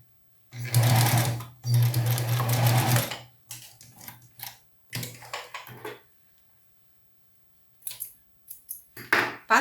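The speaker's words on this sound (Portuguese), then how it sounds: "Vamos passar uma costura nesse triângulo que sobra aqui" Sewing machine stitching a seam on a polo shirt collar, several bursts of rapid mechanical whirring separated by pauses, the longest runs early and shorter stop-start stitching toward the end.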